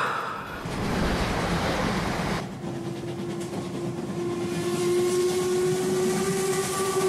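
A train in a music video: a rumbling rail passage shifts into a sustained whistle-like tone that rises slightly and holds to the end, with no voices over it.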